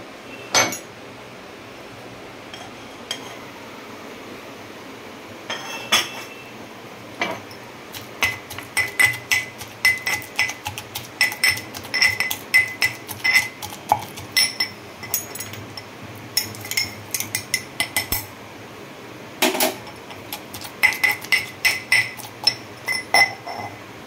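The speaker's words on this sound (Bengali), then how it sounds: "এবারে এই শাঁসটা একটু আমার দিস্তাতে ক্ষেত্রে নেব।" Pointed gourd pulp pounded in a mortar and pestle: sparse knocks at first, then a steady run of rhythmic, ringing clinks and thuds of stone on stone, close and fairly loud, with no talking.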